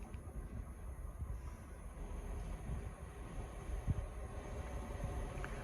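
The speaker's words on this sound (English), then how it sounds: "Arriving in now is the 1107 Great Western Railway service from Portsmouth Harbour to Cardiff Central." A Great Western Railway passenger train, unit 166213 on the Portsmouth Harbour to Cardiff Central service, pulls into Filton Abbey Wood station with a low, steady rumble and faint wheel clatter, fairly quiet and continuous.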